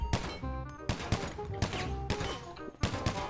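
Shots from a rubber-bullet gun in the GTA V video game: four sharp, punchy reports spaced under a second apart, each with a short ringing tail, over music and faint talk.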